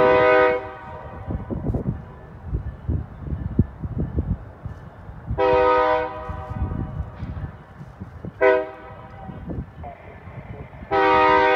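A freight train working as a hill job arrives in the rain. Its horn gives several long, loud, harmonic blasts over the low rumble of the locomotive and the rail cars rolling in.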